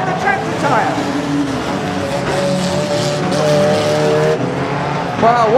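Race cars roar around the Arena Essex oval during a Firecracker heat, engines droning and whining continuously with rising and falling pitch as cars pass, plus bursts of tire squeal, with a commentator talking over the racing.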